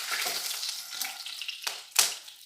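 Cumin powder, cinnamon and cloves sizzle softly in hot oil in a pan, with quiet frying hiss and a couple of sharp stirring scrapes near the end.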